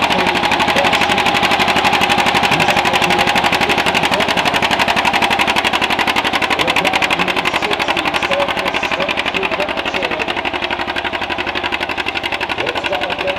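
A pulling truck or tractor at a truck and tractor pull in Melbourne, Ontario, roars steadily down the track with a loud, rapid engine chatter that holds for the whole stretch and eases slightly near the end.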